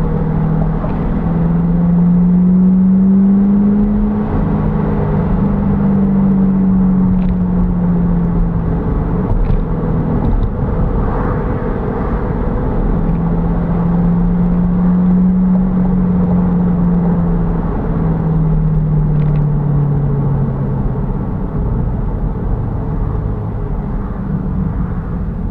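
A C8 Corvette fitted with an aftermarket exhaust revs steadily, a loud, continuous engine drone whose pitch rises and falls in two long sweeps, with no talking over it.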